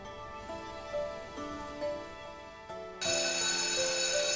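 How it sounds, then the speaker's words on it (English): Station departure bells in a visual novel ring in a steady series of bright tones, then swell into a louder, fuller chime near the end with no voices. "Along with the bells ringing, signals the train's departure."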